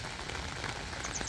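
Heavy rain pours steadily down on a carp fishing camp, a dense, constant hiss of drops drumming on surfaces close by, with no voices.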